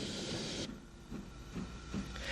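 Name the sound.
mainline train, Dublin to Belfast service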